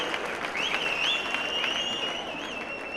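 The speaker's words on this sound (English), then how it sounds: "Give yourself a round of applause." An audience at an awards event breaks into brief applause, dense clapping at moderate level, while a faint whistle-like tone wavers on top.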